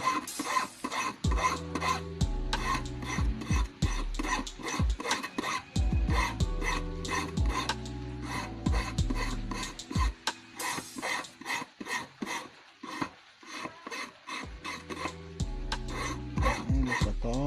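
A metal file rasps repeatedly against a fishing hook, a loud run of close, rhythmic scraping strokes in bursts with short pauses between them, and no talking.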